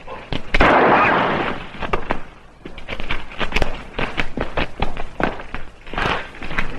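Gunfight from a 1956 Wyatt Earp TV western: several sharp, punchy gunshots ring out in quick succession, a loud bang near the start followed by a run of further cracks and reports.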